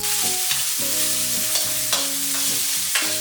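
Ginger slices, garlic slices, dried chili pieces and Sichuan peppercorns fry in oil in a wok over low heat, giving a loud, continuous sizzle with repeated scraping stirs and clinks of the utensil.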